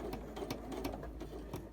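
A sewing machine runs a short back stitch on a skirt, with its needle ticking in quick, close bursts and a low motor hum underneath.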